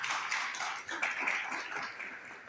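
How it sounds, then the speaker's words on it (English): An audience claps at a pharmaceutical sciences faculty seminar, a steady patter of many hands in a hall, moderately distant, with no talk over it. "A round of applause, please."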